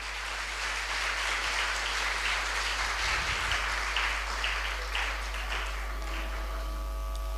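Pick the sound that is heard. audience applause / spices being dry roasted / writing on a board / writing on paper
audience applause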